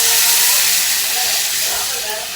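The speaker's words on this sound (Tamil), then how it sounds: "இப்போ இதில் வந்து ஒரு செம்பு தண்ணி ஊற்றிக்கிறேன் பாருங்கள்." Water poured into a hot pan with onions for semiya upma sets off a loud, steady steaming sizzle and hiss that eases off slightly over a couple of seconds.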